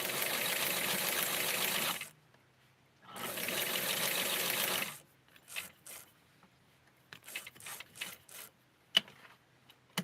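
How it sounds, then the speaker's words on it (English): A sewing machine runs close up in two steady, whirring bursts while stitching ruffle lace for a Barbie doll dress, followed by quiet clicks and small handling taps. "And now I'm going to sew all the way down to keep this down."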